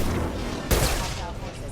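Heavy gunfire in a Mass Effect 2 Legendary Edition battle against mechs: a loud burst of shots under ongoing game sound and a voice.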